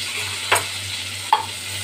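Pointed gourd (potol) frying in oil for a Bengali korma, a steady close sizzle with two sharp stirring scrapes of a spatula in the pan, no voices.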